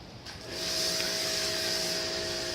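Bloom NXG2200 2200psi electric pressure washer spraying Simple Green cleaner: a steady, loud hissing spray that starts after a short quiet moment, with a constant motor whine underneath throughout.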